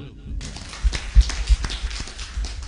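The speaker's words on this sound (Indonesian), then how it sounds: "Tepuk tangan dulu" Scattered clapping from the audience at a government app launch event, with uneven hand claps and thumps that come close and fairly loud, some light chatter mixed in.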